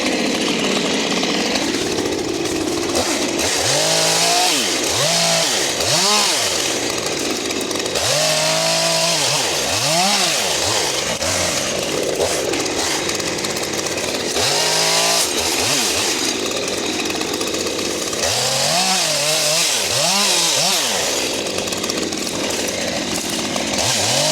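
A chainsaw runs loud and close for the whole stretch, cutting wood with repeated revving rises and falls as the engine bogs down and picks up through each cut, no talking.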